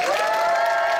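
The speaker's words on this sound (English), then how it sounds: "Big round of applause for them." Audience at the MinamiCon 26 Masquerade applauding and cheering for the awards committee, a brief, loud, dense burst of clapping with cheering voices and a sustained whoop.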